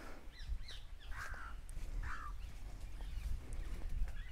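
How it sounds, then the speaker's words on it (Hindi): Several birds call outdoors in a Punjab village, with crow-like caws and short chirps scattered over a steady low rural background hum; no talking. "पंछियों की आवाज़ कितनी सुंदर लग रही है"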